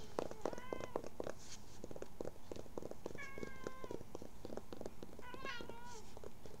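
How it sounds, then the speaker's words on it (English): A pet cat meows repeatedly, several drawn-out rising calls spread over the clip, close and fairly loud over a busy background of soft tapping and rustling. "My cat's ready to be fed."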